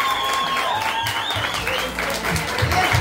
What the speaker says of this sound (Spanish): Felicidades y aplausos, por favor